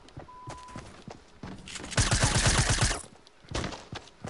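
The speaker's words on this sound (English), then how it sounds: "Did he really just shoot you down?" Gunfire in the Fortnite video game, a loud rapid string of shots around the middle after scattered clicks and thuds, fading and then returning briefly, with no talk over it.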